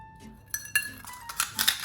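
Glass items clink and chime several times in quick, bright bursts while camping gear is unpacked, close and moderately loud with short ringing tones between hits.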